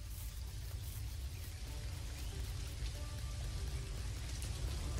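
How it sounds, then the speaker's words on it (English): Steady rain falls in the Dinkum video game as a continuous, even hiss of drops with a low rumbling undertone, moderately quiet and constant throughout, with no talk. "Of course it's gonna rain."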